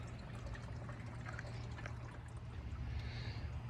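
Antifreeze coolant pours steadily into the coolant system of a 2015 Honda Civic, a soft continuous liquid trickle over a low steady hum, with no talking.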